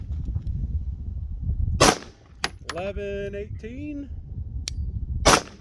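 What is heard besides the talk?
Glock 22 pistol shots with Wolf barrel, suppressed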